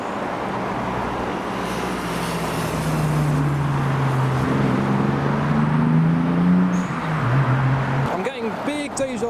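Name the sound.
Toyota Mark IV Supra driving by at a car show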